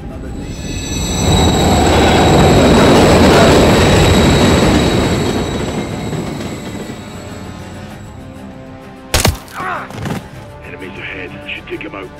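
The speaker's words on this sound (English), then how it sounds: "Another train coming." A train in the video game Call of Duty Modern Warfare III rumbles past close by, a loud swelling roar with a steady high squeal that fades out, followed by a few sharp metallic clanks.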